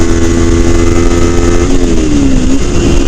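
A Kawasaki Ninja 300 motorcycle runs at wide open throttle in top gear near 70 mph, its engine droning loud and steady with a high whine under heavy wind rush.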